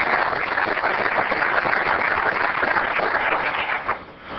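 Applause at a city council meeting in South Bend, Indiana: a steady, dense roll of many hands clapping that holds for several seconds, then thins and tapers near the end, with no speech over it.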